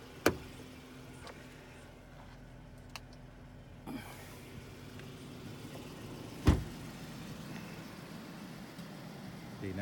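A Land Rover Discovery 5 on 275/55 R20 off-road tires raises its air suspension by one level. A low steady motor hum runs throughout, with a few sharp clicks and a louder knock near the end.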